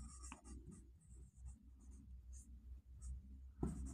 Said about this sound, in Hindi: तो यहाँ लिखेंगे यूक्लिड विभाजन